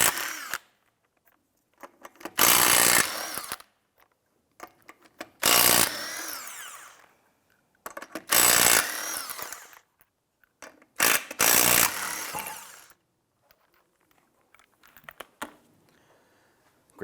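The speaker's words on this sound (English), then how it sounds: "Using your 19mm socket, loosen and remove the 5 lug nuts." A power tool with a 19mm socket spins off the five lug nuts on a Ford 500 front wheel, four loud bursts of whirring and ratcheting separated by quiet pauses.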